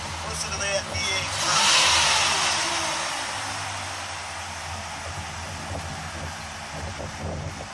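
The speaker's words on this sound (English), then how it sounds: "Listen to that V8." A 2004 Chevy Silverado standard-cab pickup's V8 idles nearby with a steady low rumble, a brief swell in revs early on, with wind noise over the microphone.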